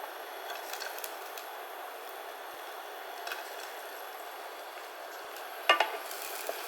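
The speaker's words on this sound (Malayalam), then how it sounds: "വെളുത്തുള്ളി ഒന്ന് വഴറ്റിയെടുക്കാം." Garlic sautés in oil in a pan for a grain-free pulao, a soft steady sizzle running throughout with a few light scrapes and clinks of stirring near the end, no voices.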